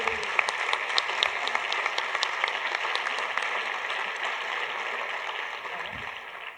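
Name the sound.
audience applauding speakers at closing ceremony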